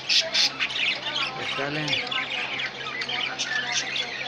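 A colony of lovebirds and budgies squawks and chirps in dense, overlapping bursts, loud and close, while someone speaks briefly over the calls.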